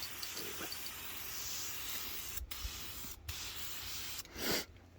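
Aerosol wheel paint hissing steadily onto a rear differential, a continuous close spray broken by a few brief pauses between passes.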